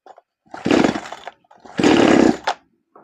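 A chainsaw under repair is being started: two short, loud bursts of engine sputter about a second apart, separated by near silence, as if it fails to catch.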